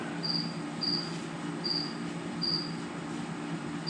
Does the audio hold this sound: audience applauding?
no